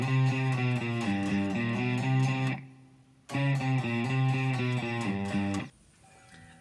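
Electric guitar plays a chromatic riff in a busy run of quick passing notes, then stops briefly before the riff repeats and cuts off into near silence.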